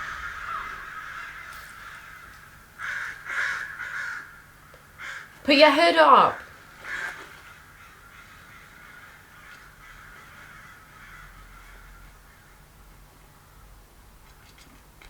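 Crows caw in the video game Death Stranding, a short cluster of harsh calls midway, with people talking quietly before and after.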